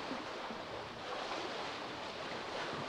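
Ocean surf and waves wash steadily around a sailing boat out at sea, with broad continuous wind and water noise and some microphone buffeting throughout, no voices.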